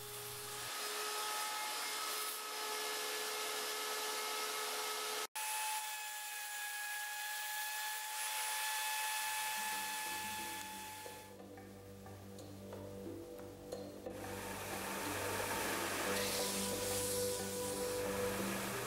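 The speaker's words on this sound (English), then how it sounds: "If you do this with a 7 1/4 inch blade that's sharp, you'll get a nice slice." A circular saw with a sharp 7 1/4 inch blade cuts a 2x4. A steady motor whine is broken by a sharp click, then a rising cutting roar that fades into a quieter spin-down.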